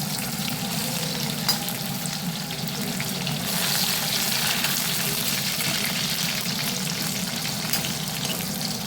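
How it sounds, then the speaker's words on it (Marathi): Crushed garlic fries in oil until crisp for a spicy Maharashtrian ashtamod chivda, giving a steady, dense sizzling hiss that holds throughout with small crackles and an occasional light stir, no voices. "लसूण ना क्रिस्पी करून घ्यायचा, याच्यामध्ये एकदम कडक घ्यायला पाहिजे"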